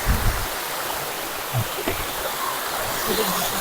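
Steady broadband rush of water flowing at the Erfelek waterfall in a forested Turkish valley, a continuous close wash with faint voices in the background.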